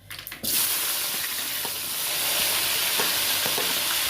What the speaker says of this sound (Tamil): வெங்காயமும் கருவேப்பிலை ரெண்டும் போட்டிருக்கேன்.